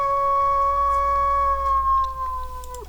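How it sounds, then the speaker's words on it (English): A classic stock wolf howl sound effect: one long, steady, tonal howl held for nearly three seconds before dipping at the end, loud and alone. "single classic wolf howl."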